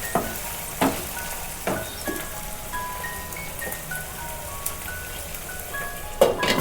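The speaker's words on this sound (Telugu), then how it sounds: "పచ్చిమిర్చి కూడా వేసుకోవాలి. వేసుకొని అంతా ఒకసారి మిక్స్ చేసుకోవాలి." Green chilies are stirred into spring onions frying in a pan, giving a soft, steady sizzle with scattered scrapes and taps from the spoon. It is quiet and close.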